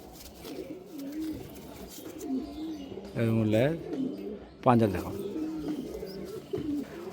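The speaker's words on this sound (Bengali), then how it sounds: "পায়রা এত ছটফট করছে, ওই জন্য আমাকে ভিডিও মাঝে মাঝে পজ করতে হচ্ছে" A restless Malbai pigeon being handled gives a couple of deep, throaty coos between steady talk from a nearby man, with faint rustling from its movement.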